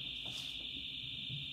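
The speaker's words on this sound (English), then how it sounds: "That would be my downstairs alarm" A home alarm sounds downstairs as a faint, steady high-pitched electronic tone that holds unbroken through the whole moment.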